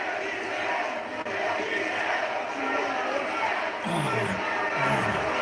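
Wrestling arena crowd at an Elimination Chamber event roars steadily as Braun Strowman's entrance approaches, a dense, loud wall of cheering and shouting with a few voices rising above it near the end.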